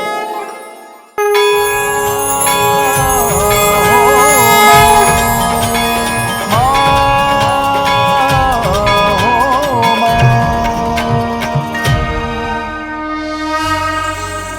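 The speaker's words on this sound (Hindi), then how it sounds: "आपके इस घंटे की ध्वनि से संपूर्ण वातावरण में एक अलग सी ऊर्जा उत्पन्न हो गई है।" A prayer bell rung at an evening aarti, heard as a loud sustained metallic ringing with a long shimmering decay over a steady musical drone, continuing for most of the span before fading near the end.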